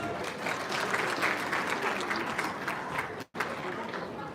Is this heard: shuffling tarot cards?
no